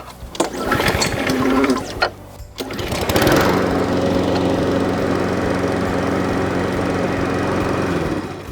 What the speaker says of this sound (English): we pull back the brake lever here and then we pull the recoil